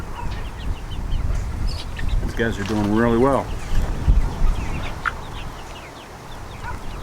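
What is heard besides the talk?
young laying hens clucking in a chicken tractor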